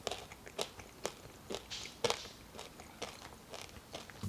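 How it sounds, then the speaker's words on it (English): Roasted potato from a sheet pan breakfast bake is bitten and chewed up close, a soft series of crunchy, crackling bites repeating about every half second in a quiet room. "So I'm gonna try the potato first."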